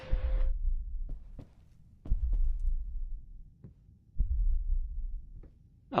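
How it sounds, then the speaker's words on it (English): A slow, deep heartbeat thuds in the Layers of Fear horror game, low muffled beats arriving in pairs under a quiet hum, with a brief tone at the start. "I can hear some heart beating, is that you?"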